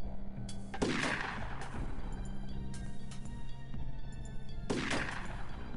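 Two heavy gunshot blasts, one early and one near the end, ring out from the video game UFO Aftershock, with a few softer thuds between them over a steady layer of game music.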